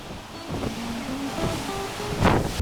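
Ocean surf along the Strait of Juan de Fuca in the Pacific Northwest, a steady wash of waves with a louder swell breaking near the end, mixed with wind noise on the microphone.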